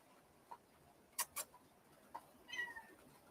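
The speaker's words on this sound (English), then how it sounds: "He meowing for me, but he won't come to my voice" A faint cat meows once, drawn out and rising, after a few light ticks and taps in an otherwise quiet space.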